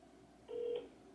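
A single short telephone dialing tone beeps briefly and faintly on a phone call, with quiet hiss around it.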